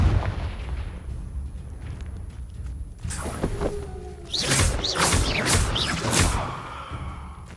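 Confringo explosion spell in a magic video game: a low rumbling backdrop, then sharp blasts and crackling bursts with whooshing effects, loud and close.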